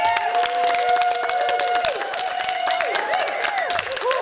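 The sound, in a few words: audience applause for comedian Ted Wilson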